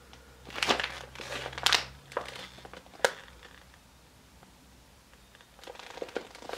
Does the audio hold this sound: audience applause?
no